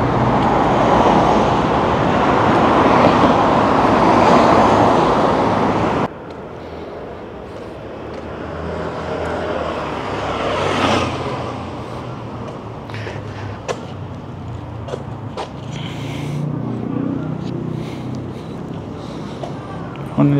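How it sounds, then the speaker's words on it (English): Cars pass along a main road in a steady wash of traffic noise, loud at first and then quieter and more distant after a sudden drop, with occasional brief knocks from the street. "So it's on a main road, and just cars passing by."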